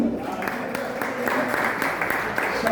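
Audience applause at an exhibition event, a steady patter of clapping from a modest crowd that runs the whole time.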